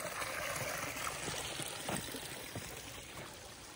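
Water runs continuously in a small stream beside a dirt road near Gagalfedi, giving a steady, close broadband rushing and trickling sound with no voices.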